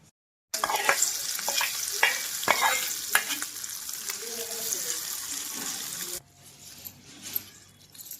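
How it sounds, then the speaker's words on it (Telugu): Tempering sizzles and crackles in a hot pan for an ivy gourd, green chilli and tomato chutney, with sharp spluttering bursts over a steady frying hiss, then quietening toward the end. "పచ్చట్లోకి మనము తాలింపు చేసుకుందాం అండి"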